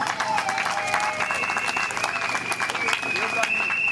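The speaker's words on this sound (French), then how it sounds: "je vous demande d'abord d'applaudir" An audience at a ceremony for a commerce institute in Boma, DR Congo, applauds, with steady dense clapping at moderate volume and tonal background music or voices running underneath.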